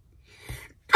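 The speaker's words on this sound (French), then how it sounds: "Je vais éternuer." A single sharp sneeze, preceded by a quick sharp intake of breath, close and loud in a quiet room.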